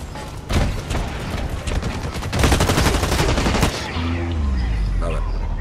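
Rapid automatic gunfire rattles in the Blacklight Retribution multiplayer shooter game, with dense, loud bursts of overlapping shots, before a voice talks briefly near the end.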